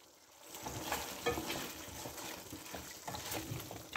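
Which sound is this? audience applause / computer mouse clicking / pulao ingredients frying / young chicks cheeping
pulao ingredients frying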